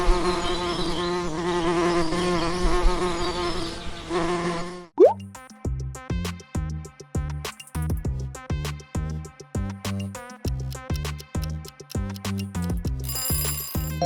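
A bee buzzes in a dense continuous drone for several seconds, then breaks into a rapid stuttering series of short buzzing pulses, loud and close with no other sounds.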